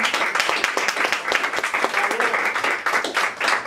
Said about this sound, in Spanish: Así que para poesía, sí, a Henry Chicago especialmente un aplauso